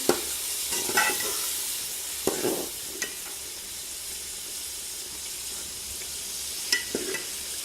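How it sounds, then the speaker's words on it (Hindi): Peas stir-fried in a pan with green chillies for an aloo matar gajar pulao: a steady soft sizzle broken by occasional scraping stirs, fairly quiet, with no voices. "अब हम इसमें मटर डालेंगे। और इसको अच्छी तरह से भूनेंगे।"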